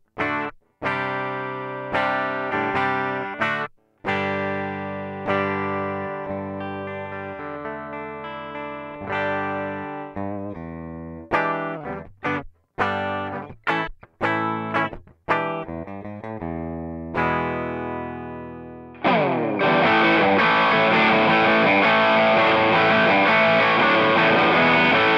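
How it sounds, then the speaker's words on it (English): Epiphone Les Paul Custom electric guitar with noiseless P90 pickups playing clean single notes and chords with effects, then switching to a loud, thick distorted sustained chord near the end. "what does this noiseless P90 sound like?"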